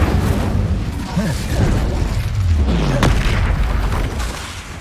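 Spell explosions in the Hogwarts Legacy video game: deep, booming blasts and whooshing bursts follow one another in a busy, continuous stream of combat noise, with no talk over them.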